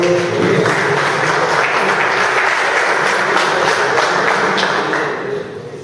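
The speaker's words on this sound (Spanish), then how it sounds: "Un aplauso." Applause from priests and seminary formators at a plenary session in Argentina, a loud, dense round of clapping filling the room steadily before dropping off quickly at the end.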